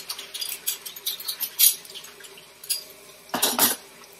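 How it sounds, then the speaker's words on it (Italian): Cutlery being rinsed in a kitchen sink, with light clinks and metallic clatters of silverware against each other and a louder cluster of clanks near the end, close and alone. "ho finito di sciacquare anche le ultime posate"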